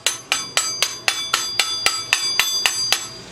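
A hammer taps metal on a motorized bicycle's heavy-duty rag joint sprocket, about a dozen sharp, bright, ringing strikes in a steady quick rhythm, close and alone.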